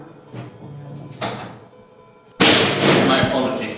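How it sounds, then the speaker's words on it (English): A door in an office building makes noises: faint scraping and thumps, then a sudden loud rattling bang that carries on, with voices in the background. "My apologies, the door sometimes makes noises."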